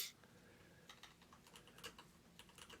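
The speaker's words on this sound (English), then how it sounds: "I'm just typing down "get hit by a bus" as a potential show for this week" Someone types on a computer keyboard, sending out soft, quick clusters of key clicks in an irregular rhythm, faint and close, with no voices.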